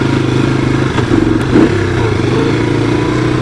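A 1985 Honda ATC 250SX three-wheeler runs close and loud during a ride, its engine droning with a brief rev and some clattering over rough ground.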